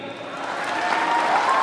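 An audience at a school event in Butwal claps, the applause rising from soft to fuller and steadier over a couple of seconds, with a voice faintly present.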